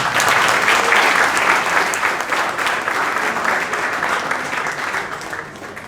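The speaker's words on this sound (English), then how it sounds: "Let's give them a big round of applause." Sustained applause from a debate audience at a defence academy event, a dense steady wash of many hands clapping that gradually eases toward the end.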